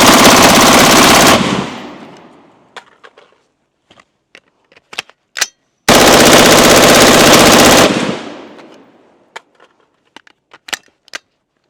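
Long, loud bursts of rapid automatic fire from a Brownells BRN-4 rifle during a meltdown, two sustained strings several seconds long, each followed by scattered single shots and clicks, with no talking.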